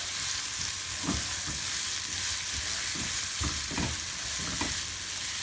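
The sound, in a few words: potato and blender seasoning sizzling in a pot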